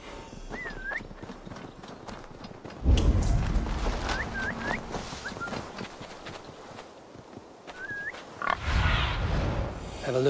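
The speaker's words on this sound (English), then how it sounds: "I'm shepherding pigs through the mud." Pigs oink in the muddy farm setting of the Viking-era video game Assassin's Creed Valhalla, several short grunts and squeals scattered over steady footsteps and hoof-like clopping, with louder bursts of movement in the mix.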